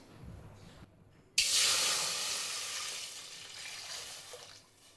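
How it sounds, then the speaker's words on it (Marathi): Water poured into a pot of hot oil while tempering for a sweet potato leaf dumpling recipe, bursting into a loud sudden sizzle that settles into a steady hissing spatter and slowly eases off. "तेल गरम झालंय, पाणी टाकायचंय."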